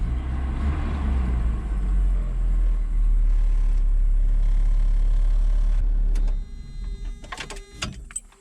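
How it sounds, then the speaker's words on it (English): The engine of a grandfather's old truck runs with a deep, steady low rumble close by, then cuts out abruptly near the end, leaving scattered clicks and clanks. "So this engine did run."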